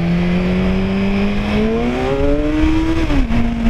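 A Kawasaki Z1000 motorcycle engine drones steadily and rises gradually in pitch as it revs, then dips briefly near the end before holding again, loud and close with no talking.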